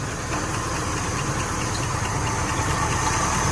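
An old car engine runs warm with a little blow-by, giving a steady, close, even mechanical drone with faint rhythmic knocking and no voices over it.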